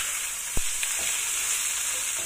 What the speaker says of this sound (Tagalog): i-fry lang muna natin yung karne para hindi siya yung malansa